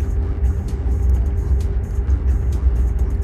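A car crosses a bridge at a distance, a low steady rumble of road traffic with faint scattered ticks and no voices.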